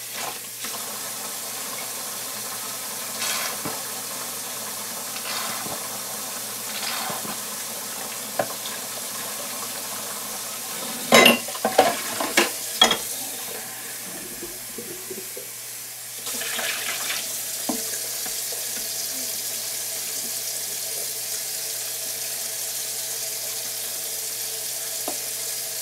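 Tap water runs into a sink as dishes are washed, a soft steady hiss throughout with brief clinks and splashes clustered midway.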